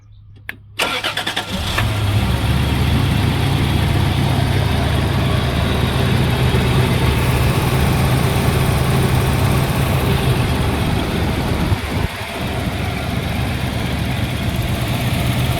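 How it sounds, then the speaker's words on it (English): A 1994 Toyota 4Runner engine cranks and catches, then settles into a steady, rumbling idle that holds close and constant with no voices. "So I'll start up the engine so you can hear it a little bit and do a few revs."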